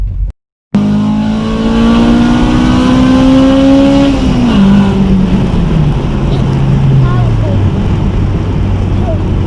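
A Honda Ferio EG sedan with an imported Fujitsubo exhaust revs loud and close, its engine note climbing steadily and then dropping back as it settles toward idle, one long continuous pull.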